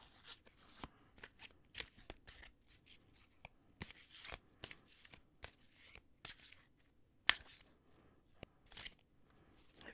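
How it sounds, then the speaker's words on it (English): A full deck of playing cards being shuffled at a tabletop solo role-playing session, crisp riffling bursts and soft slides repeating close up and quiet, with no talking. "I have to do a really good job of shuffling this because they're all currently in order."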